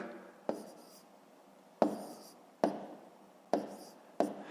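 Pen or marker strokes writing out numbers for a column multiplication problem in a fifth-grade math exercise, heard as five sharp, close taps spaced about a second apart, each trailing into a brief scratch, with no talking.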